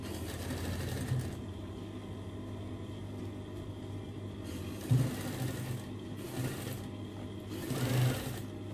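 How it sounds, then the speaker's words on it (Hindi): An electric sewing machine stitches a gents kurta collar, a steady low whirring hum with a few brief louder bursts as the needle runs, fairly quiet and without talk. "हम ऊपर से सिलाई इस तरफ से चलाएंगे"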